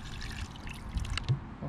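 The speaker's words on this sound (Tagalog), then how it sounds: "lalagyan na natin ito ng kaunting tubig at atin ng papakuluan" Water trickles and pours into a pan for boiling tocino in a home kitchen, a soft, steady liquid sound with a couple of small clinks near the end, close by and fairly quiet.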